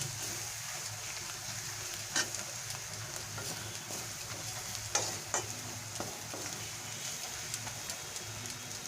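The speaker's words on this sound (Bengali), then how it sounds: "মশলার সঙ্গে আমি ভালো করে হলুদ আর লঙ্কাটাকে মিশিয়ে নেব" A spice mix with turmeric and chili powder fries in a pan for lote fish jhuri while being stirred. A steady sizzle carries throughout, with scattered scrapes and clacks of the spatula against the pan, all close and unaccompanied by talk.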